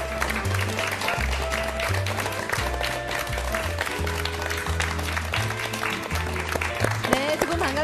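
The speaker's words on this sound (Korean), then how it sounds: "여러분 큰 박수로 환영해 주십시오" Studio audience applause welcomes taekkyeon instructors onto a Korean TV morning talk show, a steady broadband clapping that runs the whole time beneath loud upbeat band music.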